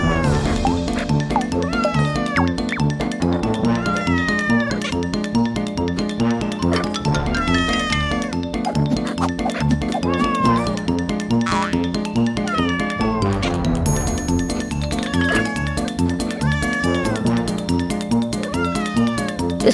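Kittens meowing continuously, many small high-pitched mews overlapping over a steady background, with no talking.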